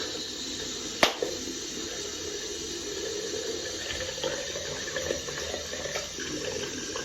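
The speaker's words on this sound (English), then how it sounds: "I've got to keep the water running" Water runs steadily from a tap into a sink, a continuous hiss with a sharp click near the start.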